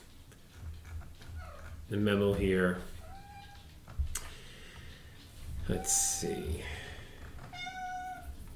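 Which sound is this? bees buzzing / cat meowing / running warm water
cat meowing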